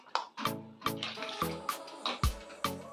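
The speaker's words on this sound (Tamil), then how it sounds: "தண்ணி உங்களுக்கு எவ்வளோ தேவையோ அவ்வளோ சேர்த்துக்கோங்க" Water is poured into simmering hotel-style tiffin sambar, heard as a quiet run of splashy, gurgling bursts in a fairly even rhythm.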